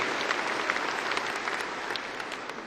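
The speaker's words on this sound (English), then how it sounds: "Let's give them a round of applause for their attendance here" Audience applause at a university spring commencement ceremony, a dense wash of clapping from a large crowd with scattered sharper claps standing out, steady and unbroken throughout.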